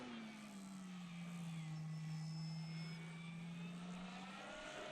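An FMS Big Pitts V2 radio-controlled plane makes a high-speed pass, its engine a steady, loud droning tone that sweeps slightly lower as it passes and then climbs, heard alone for about five seconds.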